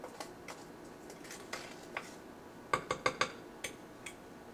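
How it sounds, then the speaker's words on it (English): A utensil works around the sides of a mixing bowl of cookie dough, making faint, scattered clicks and clinks, with a brief cluster of sharper taps toward the end. "Scrape the sides of the bowl."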